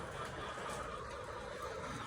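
A dense, continuous chorus of poultry sounds, like many laying hens clucking together in a layer-farm shed, steady and moderately distant.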